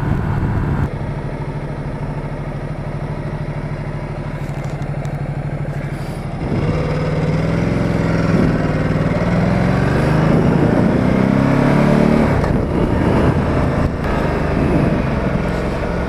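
A Ducati Multistrada 1260 S motorcycle engine pulls in first gear on a road through gorges in the Morvan, a steady, loud, close engine drone that rises in pitch partway through, with no talk.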